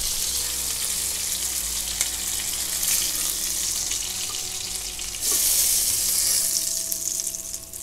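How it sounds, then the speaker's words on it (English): Yellowfin tuna with a blackened crust sears in butter in a pan, giving a steady, close sizzle with a brighter, louder burst of frying partway through and no talking. "Drop it in the butter. Boom. Tuna's pretty easy, just sear it on each side for a few seconds."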